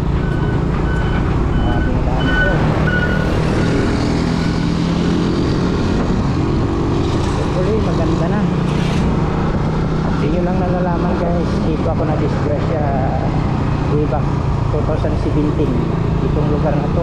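A motorcycle rumbles along a rough, potholed road with broken concrete under a steady, loud engine drone and road noise. Someone talks over it throughout.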